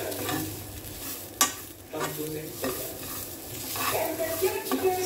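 Garlic fries and is stirred in a pan, making a close crackling sizzle interrupted by frequent scraping strokes and one sharp knock of a spoon against the pan.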